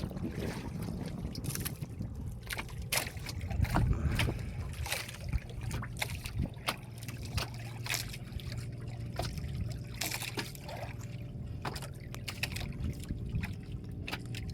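Water sloshes and trickles against a small boat, with occasional wind buffeting the microphone and scattered knocks; no talking, fairly quiet and close.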